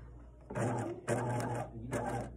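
A sewing machine stitches a short back tack on draping fabric, three quick bursts of whirring needle motion with brief pauses between, close and fairly quiet, no talk.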